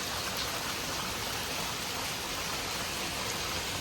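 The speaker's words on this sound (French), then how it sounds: "c'est pas mal, franchement il pleut bien" Heavy rain from a thunderstorm pours down in a steady, dense hiss, loud and continuous with no gaps, with no voices over it.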